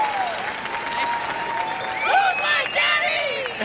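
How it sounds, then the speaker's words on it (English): An arena crowd at the Continental Cup curling event in the Orleans Arena claps and cheers in a steady roar, with whistles and shouts rising above it and voices talking over the noise. "Listen to the crowd here at the Orleans Arena, Continental Cup on a Friday night."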